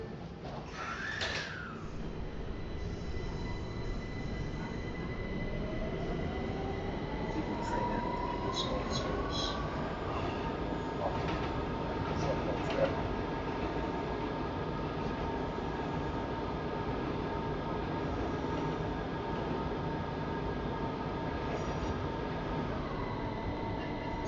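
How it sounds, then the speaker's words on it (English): A Q subway train in a video game simulation hums and rumbles steadily throughout, with a rising motor whine partway through and faint clicks and chimes, continuous and moderately distant, under an automated announcement voice. "This is a Myrtle Avenue bound Q train."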